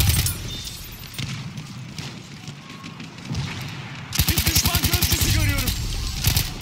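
Gunfire from the Hellriegel 1915 Defensive submachine gun in Battlefield 1, heavy scattered shots and distant battle noise giving way to a fast, loud rattling burst of automatic fire near the end, with a voice talking over parts.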